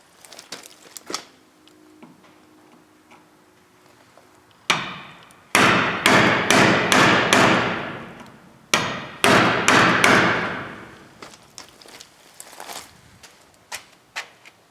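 A few light taps, then rapid bursts of sharp hammer blows striking a wood chisel while installing an electrical meter socket, loud and close, in quick rhythmic runs with short pauses between.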